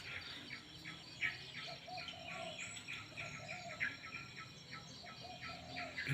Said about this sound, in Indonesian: banyak dengar suara-suara burung di sini tuh, tidak bising dengan kehidupan jalan